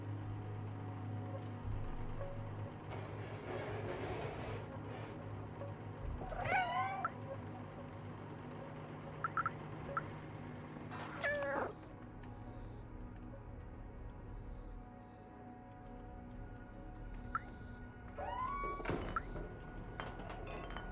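A cat meows several times in the video game Stray, short rising in-game meows spaced across the stretch over a low steady game ambience, with a few soft thuds and no talking.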